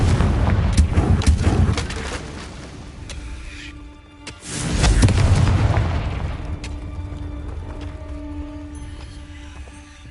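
A Confringo explosive spell blasts in Hogwarts Legacy with two heavy, booming explosions a few seconds apart, each trailing a rumbling decay, with game music tones lingering underneath.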